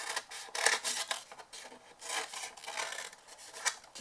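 Scissors or a blade rasp repeatedly through folded card while the corners of a handmade Christmas box are cut, in close, rhythmic scraping strokes.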